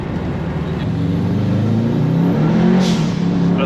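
A VW T3 bus swapped with a Subaru engine runs on a dyno with its wheels spinning and beating. A loud, sustained engine roar climbs gradually and stays close and continuous, with faint voices in the background.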